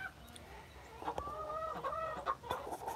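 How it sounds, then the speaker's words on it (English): Chickens cluck softly inside an enclosed coop, a few close birds giving short bursts and rising calls over a low, steady background hum. "I'm in here in my own chicken coop with them."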